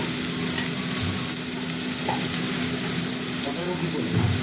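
Fried rice with vegetables, salt and black pepper stirred in a sizzling pan, a constant frying hiss broken by occasional spatula scrapes and light knocks, close and unbroken by speech.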